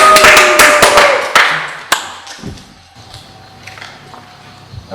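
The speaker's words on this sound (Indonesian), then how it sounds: "mari kita beri tepuk tangan yang meriah untuk pembicara kita kali ini" Audience members applaud a speaker at a church podcast event, a burst of close, loud clapping that thins out and fades within a couple of seconds into quiet room noise.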